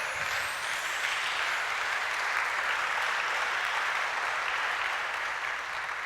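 A church congregation applauds in a steady, sustained wash of clapping, even and unbroken from start to finish, moderately loud.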